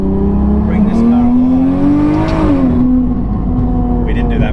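A single-turbo BMW F80 M3 with an eight-speed gearbox on the road, its engine droning loud and close as it pulls hard with quick shifts, while people talk over it inside the car.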